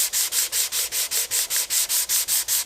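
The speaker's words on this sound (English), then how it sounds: "if you are going to use a sanding block, it does cut quicker going in circles" A sanding block is rubbed in circles over a wooden plant pot, giving a loud, close, rhythmic scratchy rasp in about a dozen even strokes, with no voices.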